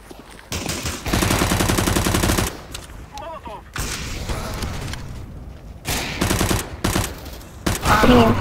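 Rapid bursts of automatic gunfire from the CS:GO shooter game, played in competitive mode on the counter-terrorist side, come in loud sustained volleys with short pauses and scattered single shots.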